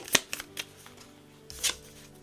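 Tarot cards shuffled by hand during a card reading, giving a few short, crisp riffling bursts that come and go near the microphone, with no talk over them.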